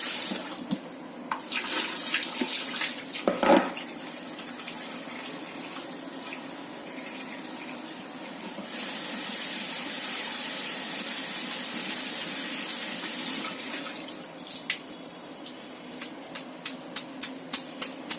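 Kitchen tap water runs steadily into a sink while food is washed, a continuous close hiss and splash with brief sharper splashes and clatters, no talking.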